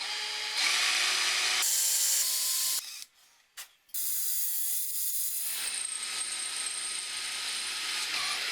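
Metal tool work re-tapping a threaded hole in an air intake pipe from a BMW E30 M3, with loud continuous ratcheting and grinding, a brief quiet break midway, then steady mechanical turning again.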